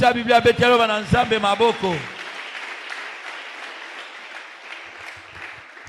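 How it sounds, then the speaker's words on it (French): A church congregation at a Sunday service breaks into applause after a preacher's voice, with a dense and sustained wash of clapping that slowly fades under light crowd noise. "acclame la parole de Dieu"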